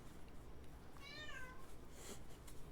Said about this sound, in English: Loud cat at the door.